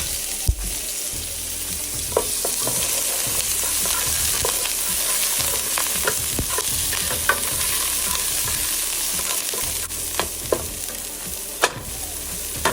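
Fresh garlic and frozen lemongrass sizzle in hot oil in a pan for Vietnamese beef stew, a steady close hiss broken by sharp clicks and scrapes of stirring.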